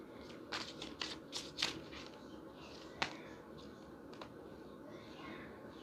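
Osho Zen tarot deck being shuffled by hand, soft riffling flicks in a quick cluster followed by a few sparse taps, quiet and close.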